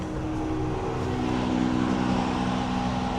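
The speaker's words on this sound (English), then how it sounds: "let's peek outside here to see what this noisy truck is" A propane delivery truck idles outside a greenhouse, its engine a steady, droning rumble with a low hum, heard at moderate distance with no one speaking.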